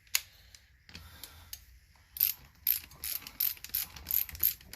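A socket ratchet on a 1/2 inch bolt on a Ferris FW35 mower's Hydro Gear ZT-2800 transmission, a few handling clicks and then a quick run of sharp, close ratcheting clicks in a rapid series.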